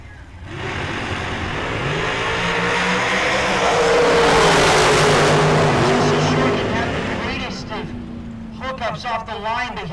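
Drag race cars launch down the strip at the Heads Up Hootenanny 2020, a loud engine roar swelling over several seconds and then fading, with a voice coming in near the end.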